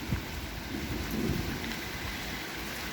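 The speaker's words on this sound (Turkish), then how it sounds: "Yağmurumuz başladı." Steady rain falls with a low rumble of thunder rolling underneath, a constant wash of noise with no voices present.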